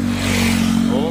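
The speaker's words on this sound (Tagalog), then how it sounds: "May motor." A motorcycle on a steep mountain road near a landslide area drones past close by as a steady engine hum that rises slightly, and a voice talks over it.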